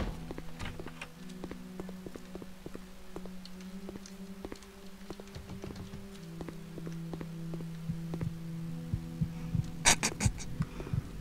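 Soft, steady heartbeat thumps of the statues in the horror game Statues, faint and repeating under a low droning hum, with a sharper burst of clatter near the end.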